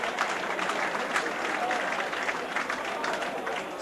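A crowd at a 1985 Warrington versus Swinton rugby league match applauds a great run, with sustained clapping and cheering spread across the stands.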